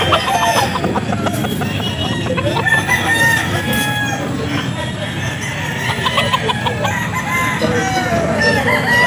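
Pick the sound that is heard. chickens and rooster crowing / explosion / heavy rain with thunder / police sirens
chickens and rooster crowing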